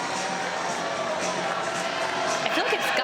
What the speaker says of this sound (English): Great senior day crowd here in Carmichael.